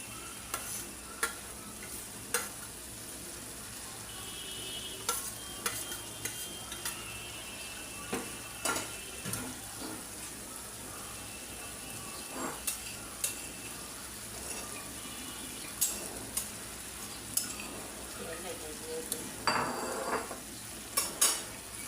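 A spatula works through egg bhuna with fried onions in a pan, producing soft, scattered scrapes and light clinks over a faint, quiet sizzle, with no talk.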